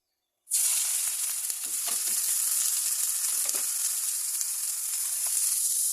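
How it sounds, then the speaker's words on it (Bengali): Dried chillies hit hot oil with a sudden loud sizzle that continues steadily, bright and hissing, with occasional small pops and crackles. "ভর্তা করার জন্য শুকনো মরিচগুলো আমি বেশি করে ভেজে উঠিয়ে রেখে দেবো"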